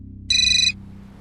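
A mobile phone rings with a short, bright electronic ringtone burst lasting under half a second, loud and clear over a low steady hum, with no voices.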